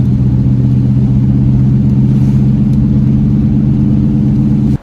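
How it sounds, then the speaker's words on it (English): A Cadillac DeVille drives at about 35 mph with a failing wheel bearing, giving a loud, steady low droning rumble and hum throughout, with no voices. "the Cadillac was making a really loud wooing grinding noise from the wheels"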